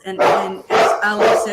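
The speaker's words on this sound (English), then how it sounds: "sorry about the dog" A dog barks three times in quick succession, loud and close, as a person speaks briefly over it.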